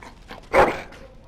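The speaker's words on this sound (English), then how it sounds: "Bloody dog." Dog in the video game Dragon Age: Origins gives a single sharp, loud bark over quiet background ambience.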